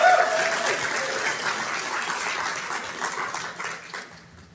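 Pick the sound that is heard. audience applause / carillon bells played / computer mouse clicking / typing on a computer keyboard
audience applause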